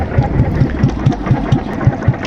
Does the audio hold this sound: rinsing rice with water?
no